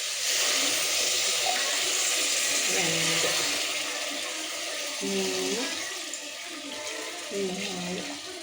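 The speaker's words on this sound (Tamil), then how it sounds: "அப்போ 6 கிளாஸ் தண்ணி நம்ம ஊற்றணும்." Steady running water pours continuously into a rice pot, with a few brief voice-like tones rising intermittently over the flow.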